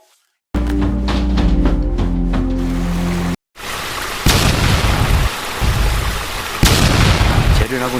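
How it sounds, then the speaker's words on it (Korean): Loud bursts and booming cracks over a constant roaring wash as hot leftover slag explodes in flooding rainwater at an industrial plant pit, with a brief silent gap early on. "재래라고 남은 뜨거운 슬래그들이 빗물에 잠기면서 곳곳에서 터지기 시작했습니다"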